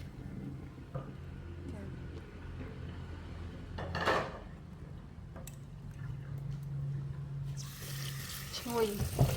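Tap water runs into a sink as mushrooms are rinsed and drained, a steady splashing stream with clinks of a pot or bowl and a brief louder pour partway through, while a person talks over it.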